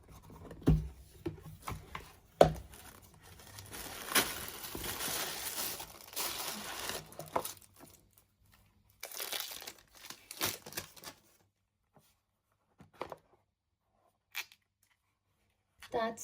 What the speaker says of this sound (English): I'm going to unbox the package.